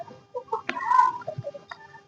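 Desi village chickens cluck in short, close, separate calls, a few quick bursts with small gaps over a couple of seconds.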